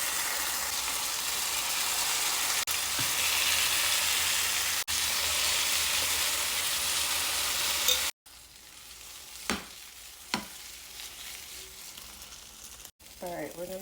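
Butter sizzles in a heated pan for chocolate chip French toast, a loud steady hiss that cuts off abruptly, then quieter sizzling broken by a few sharp scrapes and clicks.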